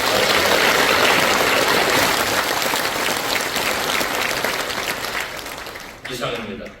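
A church congregation at a pastor's installation thanksgiving service gives loud, dense welcoming applause that gradually fades, followed by a voice speaking near the end.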